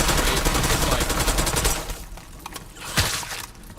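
Sustained rapid gunfire from a gun fired at enemies in a zombie shooting video game, loud continuous bursts for nearly two seconds, then sparser scattered shots and one heavier blast near the end.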